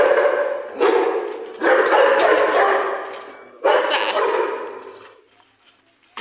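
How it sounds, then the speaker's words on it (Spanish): A large dog barks in several loud bursts, close by, with pauses between them, heard outdoors on a walk to a park while a person talks over it. "Sí, suena como perrito grande."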